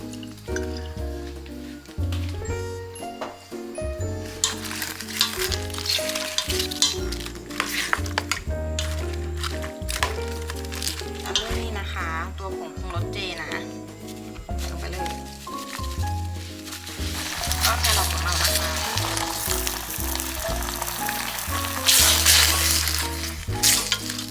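Vegetarian stir-fry sizzles steadily in a pan after mushroom soy sauce goes in, a continuous frying hiss that swells louder near the end, heard beneath background music and a voice.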